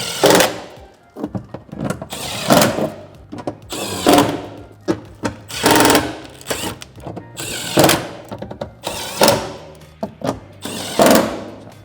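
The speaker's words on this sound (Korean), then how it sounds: "8mm 볼트 조여줄게요." Power tool tightening 8 mm bolts on a Tesla Model Y Juniper rear door during an auto door handle install, a string of short close whirring bursts with brief pauses between them.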